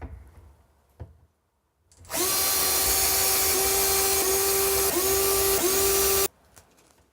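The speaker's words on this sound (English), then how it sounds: "And then you can drill your pilot hole." Power drill boring a pilot hole through a template while installing a carousel, a loud steady whine that starts abruptly, dips briefly twice in pitch under load, then cuts off after about four seconds.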